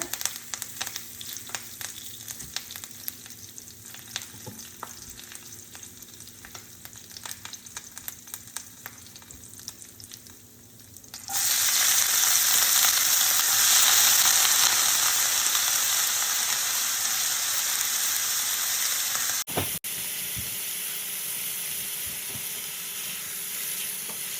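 Asafoetida and curry leaves hit hot oil in a pan, bursting into a loud, bright sizzle after a quieter stretch, then settling into a steady crackling fry with a brief clatter near the end.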